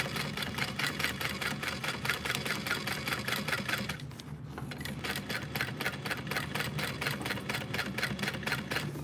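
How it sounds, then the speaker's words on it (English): A sewing machine runs in a fast, steady stitching rhythm while going over earlier stitches on a custom backpack. It pauses briefly in the middle, then resumes at a loud, close, continuous pace. "just follow my previous stitching"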